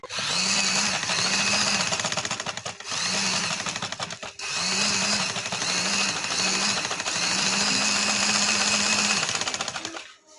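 A sewing machine stitches a pocket onto a ladies' kurti, running in rapid, buzzing bursts close up, with brief pauses between runs before stopping at the end.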